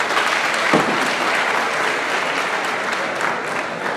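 Audience applauds the secretary general at a press freedom celebration closing ceremony in Guinea, a dense, steady round of clapping filling the whole stretch at close range.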